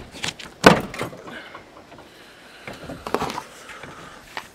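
A Ford Explorer's door shuts with one sharp thump near the start, followed by quieter rustling and handling noises.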